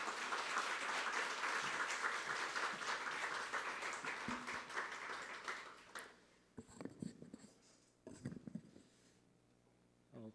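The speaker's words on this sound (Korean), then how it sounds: "여러분 박수로 맞이해 주시기 바랍니다." Church congregation applauding to welcome a visiting missionary pastor, with steady clapping for about six seconds that then thins into scattered claps and room noise.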